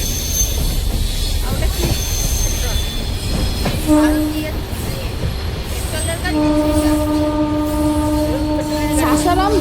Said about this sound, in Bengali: পরবর্তী সাসারাম স্টেশন ছেড়ে দিল